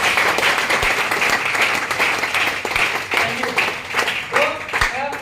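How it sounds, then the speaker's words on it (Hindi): Loud, dense applause from a seminar audience at a direct-selling business plan event, steady clapping throughout with a voice speaking over it. "मैं चाहूंगा इस रैंक के लिए पहले जोरदार ताली"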